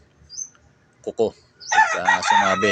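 After brief speech, a nearby rooster lets out a loud, extended crow that dominates the second half.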